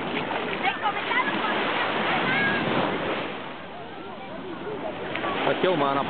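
Sea waves wash steadily onto the beach at Castelldefels, a continuous close rush of surf beneath people talking, with children's voices near the end.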